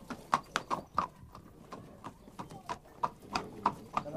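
Arabian horse hooves clip-clop in a quick, even rhythm at close range, with sharp repeated strikes and a faint whinny-like call in the background; no voices.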